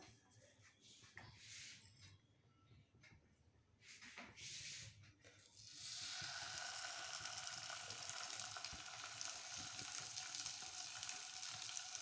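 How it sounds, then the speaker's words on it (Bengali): Paneer kati kabab pieces laid into a hot pan, with a few clinks and handling sounds before a steady, loud sizzle of frying takes over and continues. "কিছুক্ষণ এটা ফ্রাই হবে।"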